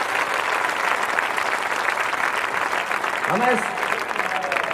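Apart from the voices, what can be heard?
audience applause for soldiers on duty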